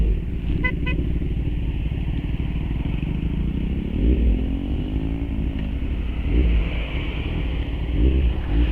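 A Kawasaki Ninja 1000SX motorcycle with a check engine fault idling and revving nearby, a steady low rumble with a few rising revs, and a brief horn toot near the start.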